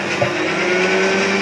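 An electric hand mixer whirs steadily as it beats sugar, added a little at a time, into cake batter for a blue velvet cake, a continuous close motor hum with no talk.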